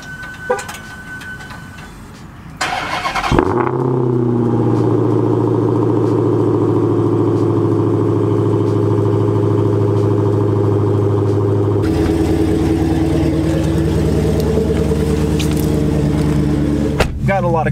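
A Dodge Hellcat with a 6-speed starts after sitting for three days: a sharp crank and bark, then a loud, deep, steady idle rumble close by, with a person talking before the start.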